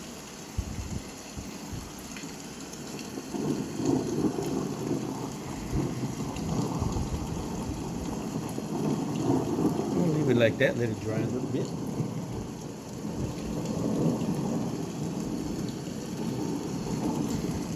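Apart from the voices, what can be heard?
thunderstorm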